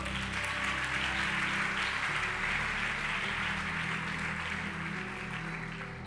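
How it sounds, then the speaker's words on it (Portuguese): A church congregation applauds together, a dense, continuous wash of clapping that holds steady for several seconds and fades slightly at the end, with no voices standing out. "Você pode aplaudir o Senhor?"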